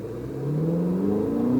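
A Ferrari 488 GTB accelerating hard on a race track at SpeedVegas, engine note climbing steadily in pitch and growing louder, close and continuous without speech.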